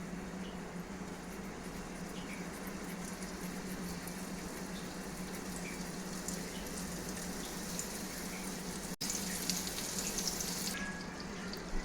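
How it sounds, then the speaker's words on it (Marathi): Prawns coated in rava and rice flour sizzle in hot oil, a steady, even crackling hiss that continues throughout, broken only by one brief dropout near the end. "आता आपण एक एक प्रॉन्स ह्याच्यामध्ये फ्राय करून घेऊयात"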